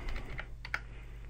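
Quiet clicking of keys on a computer keyboard while typing a web address, a few scattered taps in a short burst, close by in a quiet room.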